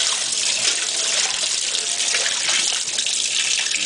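A GE Hotpoint top-load washing machine with about five inches of water agitates during its rinse cycle, a steady close sloshing and churning of water that continues without pause.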